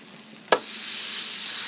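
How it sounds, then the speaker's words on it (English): A thin smash burger patty hits hot olive oil with one sharp contact, then sizzles loudly and steadily at close range. There are no voices. "Y'all hear that good sizzling? That's a good sizzling sound right there."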